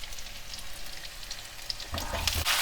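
Onions and curry leaves sizzle steadily in a hot pan while being sautéed for a bitter gourd kuzhambu, a continuous frying hiss that swells louder near the end as the pan is stirred.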